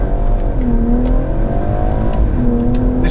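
A car accelerates hard from a standstill on a lightweight-wheel test run, engine rising in pitch through the gears with short shift pauses, loud and close from inside the cabin, with no voices.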